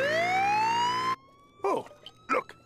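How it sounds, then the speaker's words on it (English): An ambulance siren wails loudly in a rising tone, then cuts off abruptly, followed by brief bursts of a voice talking. "Oh, look, an ambulance."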